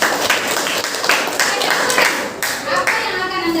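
A classroom group claps hands together briefly in a teacher training lesson, a dense burst of clapping that fades out, with children's voices mixed in.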